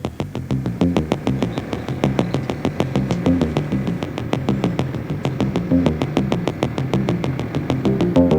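A TVS Apache RTX 300 motorcycle engine runs steadily while riding, a loud, close throbbing pulse with rapid regular firing beats that holds constant throughout with no talk.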